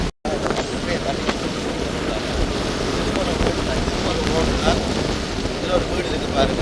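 Strong wind roars across a flooded area where a road lies underwater near the Iranaimadu tank, a dense, steady gusting rush filling the scene close to the microphone, with a brief dropout at the start.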